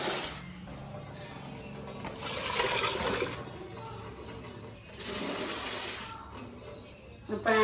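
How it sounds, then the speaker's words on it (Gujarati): Water pours into a pot of mixed rice and masala for a home-cooked masala biryani, arriving as two distinct rushing splashes with a quieter lull between them, close and moderately loud. "હવે નાખી દઈશું પાણી."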